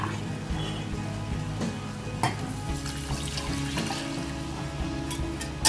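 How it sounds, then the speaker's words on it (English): Chicken broth pours and splashes into a pot over a steady sizzling, kitchen-noise background, close and continuous, with no talking. "you're going to pour it in your chicken broth."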